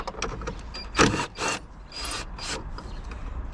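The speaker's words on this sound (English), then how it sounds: "Got an 8mm socket on a long reach bar on an impactor gun" An impact gun with an 8mm socket on a long reach bar works a battery nut on a 2016 Renault Trafic van, with short close rasping bursts and rattling mechanical whirs separated by brief pauses.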